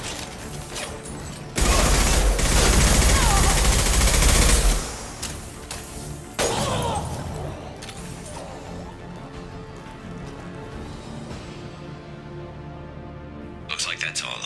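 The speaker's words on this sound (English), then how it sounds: "Firing an impact shot!" An impact shot fired in Mass Effect 2 lands as a loud, dense burst of gunfire lasting a few seconds, followed by a shorter second blast and a fading mechanical rumble with faint metallic creaks.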